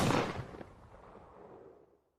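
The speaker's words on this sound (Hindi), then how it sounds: "गोली चलने की आवाज आई है," In a scene from the TV series Bhabi Ji Ghar Par Hai, a single loud gunshot cracks at the start, followed by a long reverberant tail that fades away over about two seconds.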